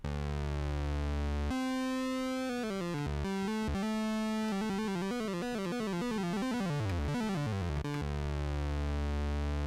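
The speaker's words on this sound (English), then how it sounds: "sounds just like a very old synthesizer that's not staying in tune very well" Moog Slim Phatty monophonic synthesizer playing a patch that drifts slightly out of tune, loud sustained buzzy notes with stepped pitch changes and descending glides, no voices.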